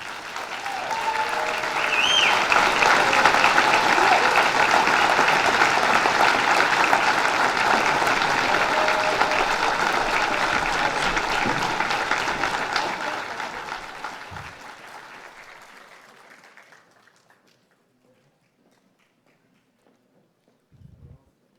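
Sustained applause from a large audience at a Milwaukee Police merit awards ceremony, loud and steady for about twelve seconds before fading to silence.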